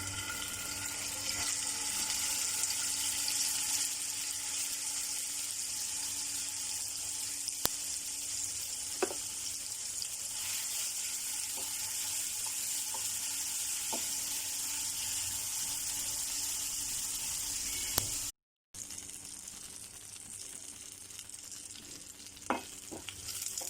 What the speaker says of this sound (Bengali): তো এখন আমার তেলটা মানে গরম হয়ে গেছে মেবি, আমি দিয়ে দিচ্ছি এগুলো।